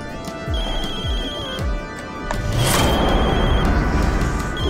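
A telephone rings in the video game Far Cry 2 while the player's character is underwater, a repeated electronic ringing tone heard clearly over game ambience, followed by a loud crash-like burst near the middle.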